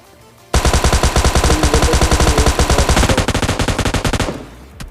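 Rapid automatic fire from an M249 light machine gun in a battle royale video game, one loud sustained burst of about four seconds with evenly spaced shots before it trails off.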